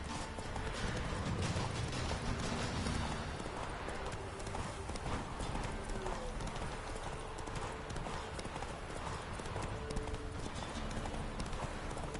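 Horse hooves clip-clopping in The Witcher Wild Hunt video game, a steady trotting beat under a dense, loud game soundscape of wind and ambience, with a brief voice over it.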